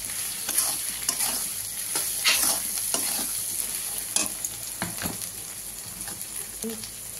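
Masala with a spoonful of sugar being stir-fried in a pan for a fish-head and cabbage dish, with steady sizzling under repeated scraping strokes of a spatula, close and continuous.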